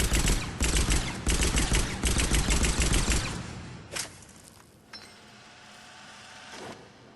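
Rapid bursts of Eagle pistol fire from the hip in Mass Effect 3, loud sharp shots in quick clusters for about three seconds, then a few isolated shots trailing off into quiet.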